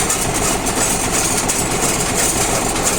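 Round baler's power take-off driven by a tractor engine, a steady loud mechanical drone with continuous hum and rattle, running evenly throughout without talk.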